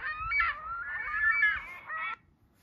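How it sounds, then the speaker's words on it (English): A ring-billed gull gives a series of loud, harsh nasal calls up close, strung together for about two seconds and then breaking off into quiet. "Ring-billed gull."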